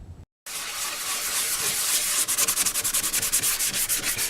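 Primer on a Honda body panel is sanded by hand, a steady close rubbing hiss that turns into rhythmic back-and-forth strokes.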